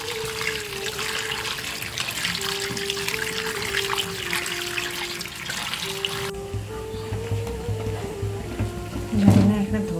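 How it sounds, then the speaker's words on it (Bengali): Tap water runs steadily into a sink while a kilo of destemmed olives is washed, a continuous splashing trickle with a few louder clatters near the end and a voice heard speaking briefly. "তো এটা ভালো করে এখন ধুয়ে নেব"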